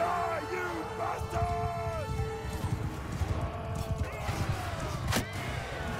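Horse hooves clatter in a rhythmic gallop during a mounted battle in the video game Mount & Blade II Bannerlord, with faint whinny-like cries mixed in and someone talking over the action.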